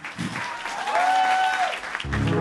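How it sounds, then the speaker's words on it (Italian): Steady audience applause fills the room at a talk at a voice academy, a dense continuous patter of many hands, loud and close, with a brief voice over it near the end. "Ne approfitterei per fare un applauso a Federico Massa"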